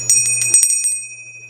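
A small greetings bell printed with birthday greetings and zodiac symbols is struck several times in quick succession, loud and close, then rings out in a clear, fading tone.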